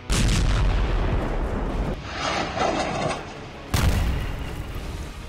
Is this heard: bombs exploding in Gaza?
yes